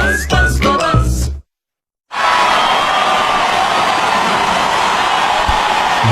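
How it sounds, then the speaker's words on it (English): An Australian Open tennis crowd roars and cheers in support of Andy Murray, a dense sustained wall of noise following a brief cut of silence after a snippet of unrelated audio. "The crowd getting involved now"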